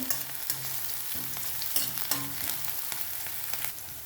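Tadka for masoor dal fries in a pan, a steady sizzling hiss with rhythmic spatula strokes stirring every half second or so.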